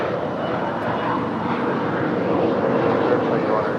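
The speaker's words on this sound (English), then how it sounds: "This is Japan Airlines coming in from Tokyo, Haneda. Flight 16. It's a 787-9 Dreamliner." A Japan Airlines Boeing 787-9 Dreamliner arriving at LAX on a flight from Tokyo Haneda, its engines giving a broad, steady roar that holds level across the moment, heard from a distance outdoors.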